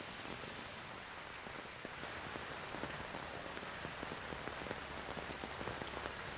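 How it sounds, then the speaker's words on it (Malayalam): Heavy rain pours steadily over Kochi, a dense, constant patter of drops striking surfaces, close and even throughout with no voices. "അതിശക്തമായ മഴയാണ് ഇപ്പോഴും ഇവിടെ പെയ്യുന്നത്"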